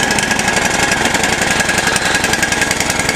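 A small engine running at a fast steady idle while warming up, a loud rapid chugging rattle close by with no pauses or talk.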